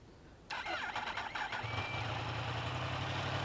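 A 2018 Yamaha R1 motorcycle engine cranks briefly and catches, then settles into a steady idle hum, heard up close and fairly quiet.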